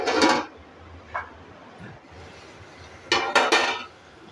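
A metal lid is set on a cooking pot of softening tomatoes for a homemade fish curry, making a few close, sharp clanks and rattles separated by quiet pauses.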